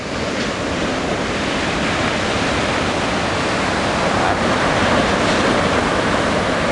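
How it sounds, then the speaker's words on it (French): Ocean waves break at a surf spot in Anglet on the French Basque coast, a steady, dense roar of surf with no speech. "quand on va rentrer des lignes comme ça, on sait qu'il y a des vagues"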